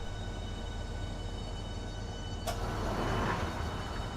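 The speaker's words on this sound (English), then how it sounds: "I love the way this train sounds." A high-speed train running between London and Faversham, heard from inside the carriage as a steady, even rumble with a brief sharp click partway through and no talking.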